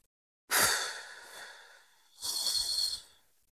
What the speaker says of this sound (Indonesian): sambil saudara mengeluarkan napas dari mulut dengan suara bersiul